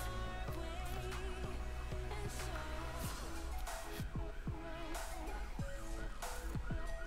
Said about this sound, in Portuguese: A ambulância tá passando.